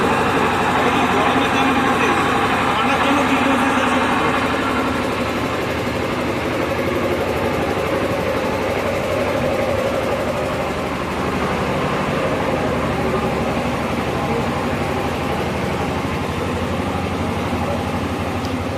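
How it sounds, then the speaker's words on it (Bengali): A generator at a poultry farm shed with cooling pads drones steadily and loudly throughout, a dense, unbroken mechanical roar with no pauses. "জেনারেটরের আওয়াজের জন্য বিশেষ কিছু কথা বলতে পারছি না,"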